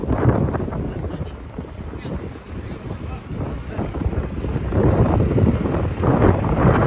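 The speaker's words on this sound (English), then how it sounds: "that wind has really picked up over the last 45 minutes" Strong wind blows outdoors in Manhattan, New York City, buffeting the microphone with a steady, loud rumbling roar that swells toward the end and continues without a break.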